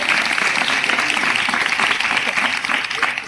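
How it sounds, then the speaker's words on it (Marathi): Crowd applause for Shastriji at a Swaminarayan temple chariot festival, a dense, steady clapping from many hands filling the space, close and loud throughout. "त्यासाठी आपण शास्त्रीजींसाठी टाळ्यांचा गजर करूया"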